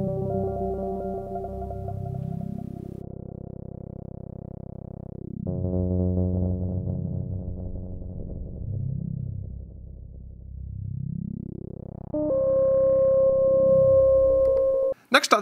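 An OPx-4 synth patch plays sustained tones as a smooth random LFO sweeps the filter cutoff, producing slow rising and falling wah-like swells that shift pitch in stages, ending with a brief abrupt cutoff.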